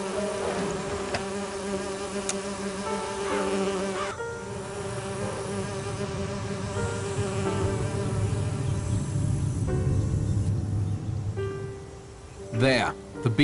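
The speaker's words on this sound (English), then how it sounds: "I need to subdue the bees first. They'll do me in for sure if I disrupt their artificial home." Bees buzzing around an artificial hive, a close, steady droning hum with shifting pitches layered over one another, continuous across the clip before a brief louder flare near the end.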